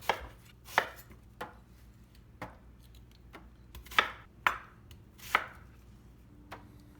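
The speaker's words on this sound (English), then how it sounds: "Next, we're going to slice up a yellow onion and lay down an onion bed." A knife slices through a yellow onion on a cutting board, about ten sharp, separate chops spaced irregularly, close and fairly quiet with no talking.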